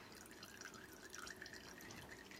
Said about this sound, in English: you're going to take your mocha infused oil and you're going to strain it through a fine mesh strainer